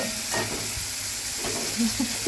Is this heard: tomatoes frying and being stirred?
yes